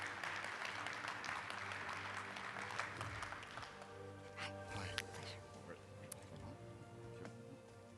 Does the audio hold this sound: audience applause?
yes